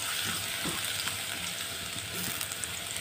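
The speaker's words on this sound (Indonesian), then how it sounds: "Minyak sudah panas, masukkan bawang putih dulu." Garlic frying in hot oil gives off a soft, continuous sizzle with faint crackles and a few light stirring sounds, quiet and steady throughout, with no talking.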